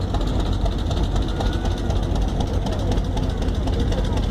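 Antique Advance-Rumley tractors driving in a farm show parade, a dense, continuous rumbling engine chug with clattering mechanical noise, loud and close throughout.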